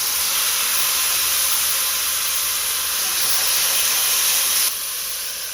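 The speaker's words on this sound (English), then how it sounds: "I've got 3 cups of low sodium chicken broth. I'm going to add a little to that." Low-sodium chicken broth is poured into a hot pot over browned meat, giving a loud, steady hiss of steam that lasts throughout. It drops slightly right at the end.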